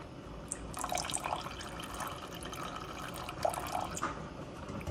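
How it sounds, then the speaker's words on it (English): Juice from canned Food Lion pineapple slices is poured in a thin, faint trickle with small splashes and drips in a quiet kitchen. "I'm going to pour a little bit of this juice from the pineapple"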